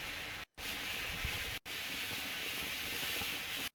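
A small Jalapeno Popper consumer firework from TNT Fireworks burns with a steady, loud, dense hiss and light crackle, broken by two brief gaps, with no talking.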